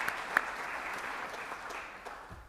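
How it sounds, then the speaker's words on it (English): At a school board of education meeting, an audience applauds All-Ohio athletes. Moderate, even clapping from a roomful of people holds throughout, with a few sharper individual claps standing out near the start. "For sure, big applause."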